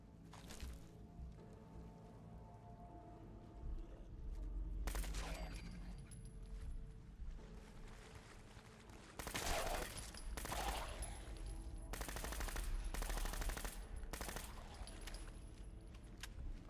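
Suppressed gunfire in Fallout 4 comes as muffled, sharp bursts: a few single shots early, then rapid clustered volleys later, standing out over a quiet game background.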